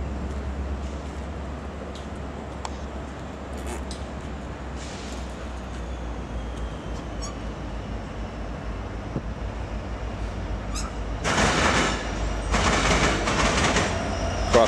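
Norfolk Southern train passing through Joliet, heard as a steady low rumble of rolling cars with faint rail clatter, swelling louder near the end as the train draws closer.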